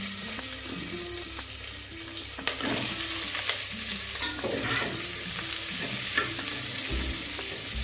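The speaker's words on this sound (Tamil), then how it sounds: "வெங்காயம் நல்லா வதங்கட்டும்." Onions sauté in a pan for brinjal gravy, giving a close, busy crackling sizzle broken by irregular scrapes and knocks of stirring. No one speaks.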